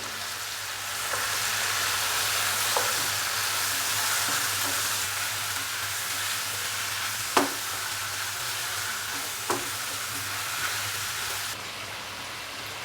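Chicken sizzling steadily in a frying pan with cumin and salt while being stirred, a constant close hiss broken by a few sharp scrapes and taps of the spoon.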